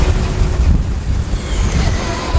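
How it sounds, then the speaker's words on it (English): Steady wind roars across a sailboat cruising down the North American coast at about six knots in 15 to 20 knot winds, a constant low rushing with wave wash, loud and unbroken throughout. "It will be if the wind keeps blowing like it is."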